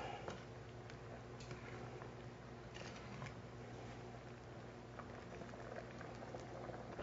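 French onion soup at a rolling boil in a pot, a quiet continuous bubbling and soft popping with faint ticks and clinks, no voices.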